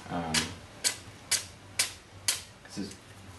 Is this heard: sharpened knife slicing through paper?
yes